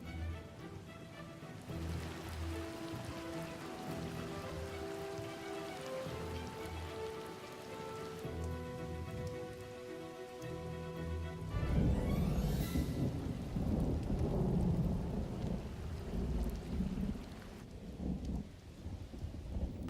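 Steady rain falls while thunder rumbles low and heavy, swelling into a loud roll partway through; sustained musical tones sit underneath, with no voices.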